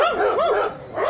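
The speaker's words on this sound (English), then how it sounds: "These barking dogs." Several dogs bark and yip in quick, overlapping bursts, fairly close, with a faint outdoor hiss underneath.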